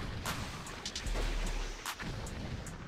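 A deep rumbling explosion in World of Warcraft PvP, Wrath of the Lich King Classic, heavy and sustained with scattered sharper cracks on top, loud and close with no voice over it.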